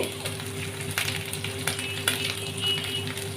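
Ginger-garlic paste fries in a pan for mutton keema, a steady close sizzle with light stirring scrapes and an occasional tap of the spoon against the pan.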